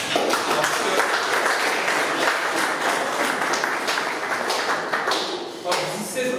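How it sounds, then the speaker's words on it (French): A crowd applauds a football team at an end-of-season club conference, a steady wash of clapping that stays dense and loud throughout and is partly mixed with voices. "je vous appelle à vous applaudir encore une fois"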